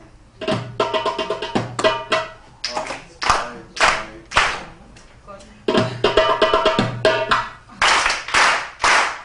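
Rhythmic hand clapping in short bursts of sharp claps, loud and close, with pauses between phrases and a faint tonal undertone from voices or music.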